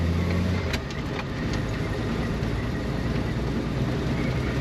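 A 1927 Nash pickup truck engine runs steadily while driving, with a low, even rumble, smooth and continuous throughout, recorded from close by.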